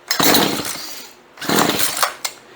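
A chainsaw that has sat unused for a long time sputters to life in two rough bursts, a loud buzzing rumble that cuts out briefly before roaring again.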